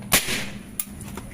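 A sharp, sudden pop of a PCP mini air pistol shot, model L-38 at 2500 psi, followed by a quieter secondary crack, over a steady background hiss.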